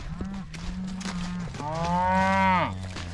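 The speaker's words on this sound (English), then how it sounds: "Lots of food for these cows to eat." Cows on a farm moo loudly and close by, one low call followed by a longer, rising moo, with no talk.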